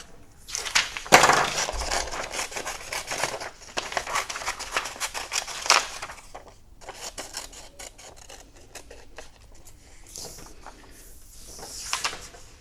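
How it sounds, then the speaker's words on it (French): Scissors cutting a sheet of paper in a children's craft workshop, bursts of crisp snipping and rustling in several runs with short pauses between, close and fairly loud. "Je vais déjà découper bien large pour ne plus être gênée par la feuille de papier."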